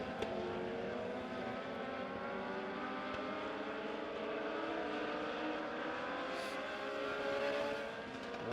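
Dirt track race cars in a video game circle Springfield Raceway down the backstretch into turns 3 and 4, a steady pack of droning engines with shifting revving tones that rise and fall, loud and continuous with no talk.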